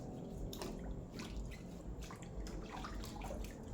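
Soft, close splashing and dripping water as soil is rinsed off freshly dug, trimmed galangal roots in a garden, a steady low wash with small drips throughout.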